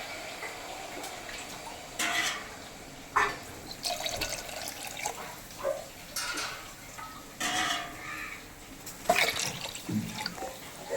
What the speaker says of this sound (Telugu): వాటర్ వేయాలి ఫ్రెండ్స్